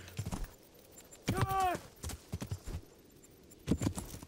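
A horse's hooves clopping in Kingdom Come: Deliverance, with a few scattered footfalls and a short loud whinny-like burst in the middle, fairly close.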